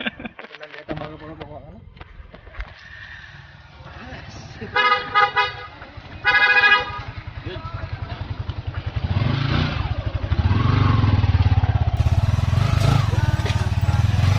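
A loud aftermarket horn fitted to a Yamaha Sniper 155 VVA motorcycle gives several short, sharp blasts over an idling engine that revs up later, with voices talking nearby.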